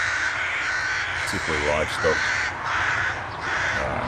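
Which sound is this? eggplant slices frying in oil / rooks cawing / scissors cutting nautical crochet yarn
rooks cawing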